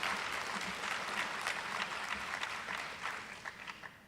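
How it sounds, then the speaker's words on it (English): Steady round of applause from a banquet crowd at a high school athletic awards event, dense clapping throughout that gradually thins toward the end, heard from across the room. "Give them a round of applause for that"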